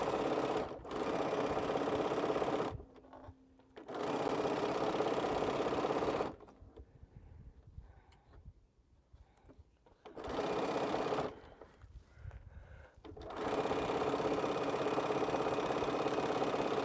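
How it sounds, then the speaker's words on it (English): A sewing machine stitching quilt pieces runs in several sustained bursts of steady, rapid needle chatter, broken by short pauses and one longer quiet gap, close and clear. "when I start sewing again"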